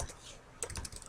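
Keys tapped on a computer keyboard while entering HTML code, a few soft, scattered clicks at close range, faint and brief.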